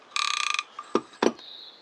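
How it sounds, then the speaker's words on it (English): A fishing reel's ratchet rattles off a quick run of close, crisp clicks, then gives two or three separate heavier clicks, with no talk. "you've actually got a switch on the back in which you can turn the ratchet on and off"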